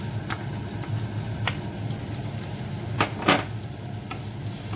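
Onion, carrot and leeks sauté in a pan for a Jaffna style chickpea dish, giving a steady soft sizzle with a few brief clicks of stirring. No voices are heard.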